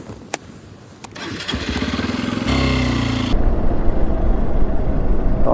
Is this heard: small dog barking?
no